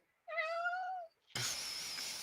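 A cat gives one clear, drawn-out meow close by, followed after a short pause by a burst of broadband hiss or rustle.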